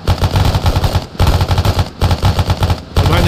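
Bursts of automatic rifle fire in the military shooter Arma 3, loud and close, rapid rattling volleys broken by brief pauses between strings of shots.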